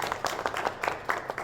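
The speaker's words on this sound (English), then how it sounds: "I feel like she needs a round of applause for that." An audience at a political talk breaks into a round of applause, with steady, dense clapping that pulses in a few bursts over a short stretch and stays fairly faint and distant.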